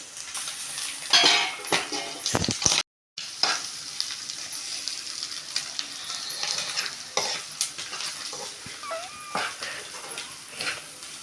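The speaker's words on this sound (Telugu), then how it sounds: "ఇప్పుడైతే నేను అల్లం వెల్లుల్లి పేస్ట్ అయితే వేసుకుంటున్నాను" Ginger garlic paste sizzles and fries in a hot pan for a village-style curry, with a steady crackling hiss, occasional stirring scrapes and brief clatter close by.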